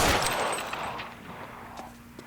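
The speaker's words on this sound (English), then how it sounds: "Come on, I shot that guy in the head." Gunshots in the video game L.A. Noire, one loud burst at the start fading into a ringing decay, followed by a few faint, scattered later shots at a distance.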